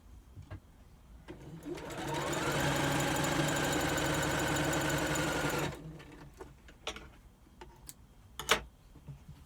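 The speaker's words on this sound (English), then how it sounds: "we sew a 1/4 inch away from the edge along the long side, making sure our seam from the previous sewing is facing upways" A sewing machine runs steadily for a few seconds, stitching a quarter-inch seam along the long side of a log cabin quilt block, with quieter handling taps and rustles before and after.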